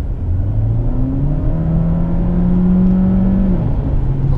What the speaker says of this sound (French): Le moteur se fait entendre